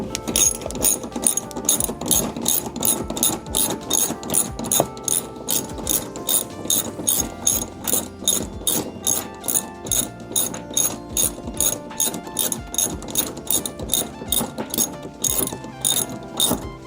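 A bolt is tightened with a ratchet while an OEM subwoofer is swapped in a Lexus LX, a close, steady run of rhythmic metallic clicks repeating throughout with no talking.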